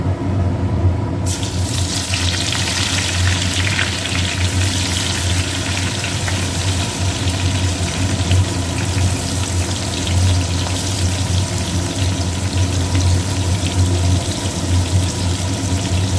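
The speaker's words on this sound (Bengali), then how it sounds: "এইবার এই তেলেতে পেঁয়াজ যে বেরেস্তা করবো বলে রেখেছি কিছুটা পেঁয়াজ বেরেস্তার জন্য" Sliced onion rings frying in hot oil to make crisp birista for biryani, a steady, loud, dense sizzle that surges in after a second and keeps crackling evenly throughout, with no talking.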